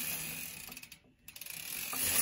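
A rapid, buzzing, hornet-like clicking of a star ratchet bicycle hub freewheel spinning, briefly slowing and pausing before picking up again.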